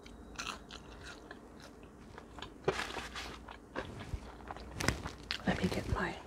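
Delivered french fries are bitten and chewed up close, with soft crunches and mouth sounds in an irregular rhythm, quiet and intimate.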